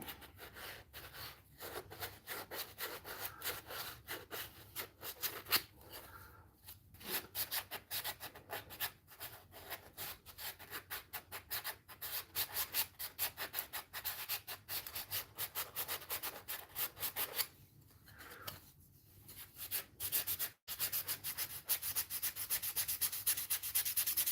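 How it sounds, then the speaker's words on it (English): Steady, raspy hand sanding of wooden spoons, continuous scratchy strokes rubbing back and forth at close range, with a few brief pauses between passes. "You ever notice when you're sanding on something that the sound it makes"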